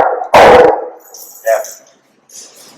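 A dog gives one sharp, loud bark up close during a training session, followed by brief softer vocal sounds and a short spoken word from a person.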